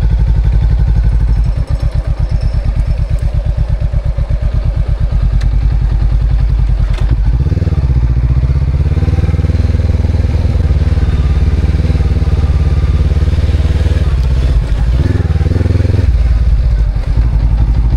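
A motorcycle engine drones steadily and loudly throughout a ride at a lakeside campsite, with the rumble swelling as it accelerates partway through, no talking heard.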